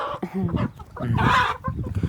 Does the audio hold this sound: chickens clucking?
yes